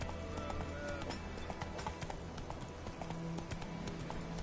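Roach the horse clip-clopping at a steady walk, hooves knocking in an even rhythm close by over a busy background, while a voice speaks over the steps.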